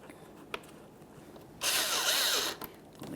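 A power drill drives mounting screws into a Kia Forte Koup front bumper cover, 2010-2013 model, giving one loud, steady whir of about a second after quiet shop background with a few small clicks.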